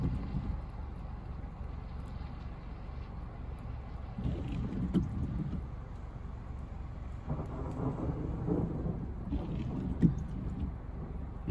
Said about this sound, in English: You guys can hear all that thunder, can't you?